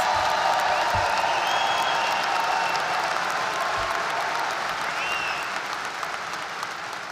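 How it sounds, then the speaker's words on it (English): Sustained applause fills a commencement hall as a crowd claps for agricultural sciences graduates, steady and dense throughout, with faint cheers and whistles rising briefly and the clapping easing slightly toward the end. "Give them a big round of applause."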